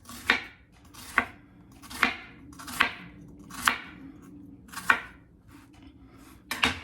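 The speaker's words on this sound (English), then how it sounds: "I'm following the shape of this onion and just making slices" A knife slicing through an onion on a cutting board: about eight crisp, close cuts at a steady, unhurried pace, each a sharp crunch that fades quickly, with no talking.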